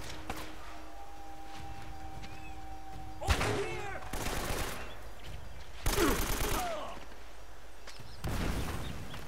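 Gunfire in Uncharted: Drake's Fortune: loud, sharp bursts of shots arrive in four separate volleys a second or two apart, with quieter game ambience between them.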